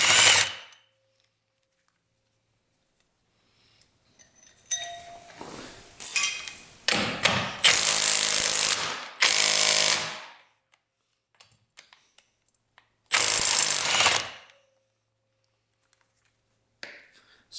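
Impact wrench bursts loosening a large bolt on a 1200cc motorcycle left sitting for over 20 years, several loud rattling bursts of a second or two each separated by quiet pauses, close up in a garage.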